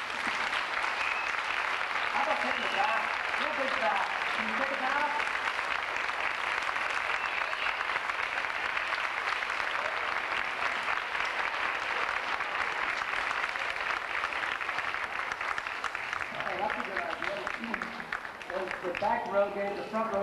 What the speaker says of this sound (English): Could we give them one big rousing applause?